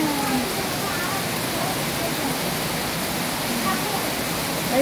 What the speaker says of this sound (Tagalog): Super duper lakas ng ulan.